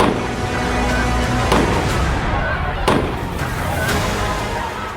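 Sharp gunshots ring out during violent street clashes and stone pelting in Roorkee, Uttarakhand: a few distinct cracks stand out over a dense, noisy crowd background with indistinct voices.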